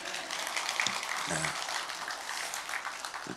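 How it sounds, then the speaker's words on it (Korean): Congregation clapping steadily after a hymn at a Sunday church service, a dense wash of applause filling the room for a few seconds with a murmur of voices underneath. "찬양하는데 또 박수를 치시네."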